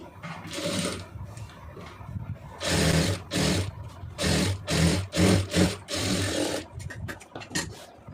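Sewing machine stitching an armhole seam on a garment, a series of close whirring bursts of stitching, several short runs separated by brief pauses, with a faint sense of quiet work in between.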